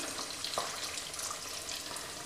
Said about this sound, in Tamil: இப்போ ஒரு டம்ளர் தண்ணி ஊற்றி